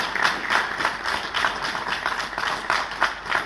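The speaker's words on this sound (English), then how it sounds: "request we give another round of applause to Marshal Jula and General" An audience claps steadily in a dense, continuous wash of applause at a signing ceremony between Ethiopia's ENDF and the TPLF, with slight rhythmic swells throughout and no voices.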